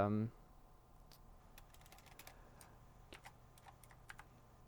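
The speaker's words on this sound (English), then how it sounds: "I can hear you typing" After a brief voice at the start, soft scattered taps and clicks of typing on a phone come through, light and irregular, in a quiet room.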